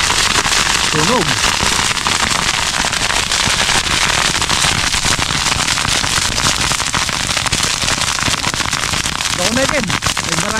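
Burning grass crackles and pops loudly and continuously in a calamansi grove, a dense noisy roar of snapping fire, with brief bits of voices calling out underneath.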